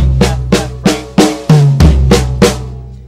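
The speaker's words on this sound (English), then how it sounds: "take the six-stroke roll and play the first and the last notes on the tom and the floor tom" A six-stroke drum roll with first and last notes on tom and floor tom: seven sharp hits spaced evenly, sustained low tom tones ringing beneath, played close and loud in a steady rhythm.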